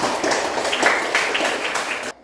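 Students in a classroom clap for a classmate, a brief burst of mixed hand claps that carries on steadily and then cuts off abruptly at the end.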